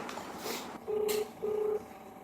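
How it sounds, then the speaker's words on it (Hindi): A phone number being dialed indoors: two short, clear keypad tones in quick succession, fairly faint against a quiet room with a bit of background rustle. "अभी फोन मिलाओ।"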